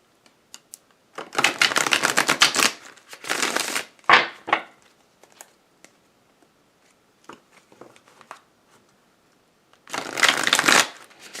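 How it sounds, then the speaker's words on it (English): Tarot cards being shuffled close by in three separate bursts of fluttering riffles, with quiet gaps and a few small taps between them. "they started shuffling the cards again"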